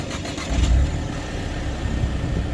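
A Mercedes-Benz SLK 200 (R171) engine turns over and catches, then settles into a steady, low mid-pitched idle heard close up from inside the car, with no talking.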